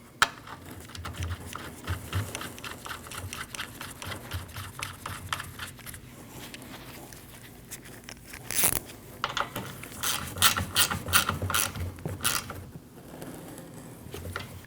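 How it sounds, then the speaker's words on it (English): A ratchet wrench tightening an 8mm bolt while installing an AC condenser on a 2013–2019 Ford Escape 1.5L, rapid fine clicking in bursts with a few louder metallic knocks, close and fairly quiet. "Now you can install your 8mm bolt and tighten it down."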